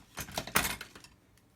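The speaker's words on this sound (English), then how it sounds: "They're nice Tamiya cutters, so we get a nice clean cut." Plastic parts of a Tamiya Land Rover Defender 90 CC-01 model kit being snipped from the sprue with Tamiya side cutters, a few quick close clicks and small plastic snaps within a second, then quiet.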